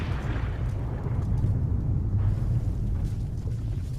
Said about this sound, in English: So we got 2 explosions tonight.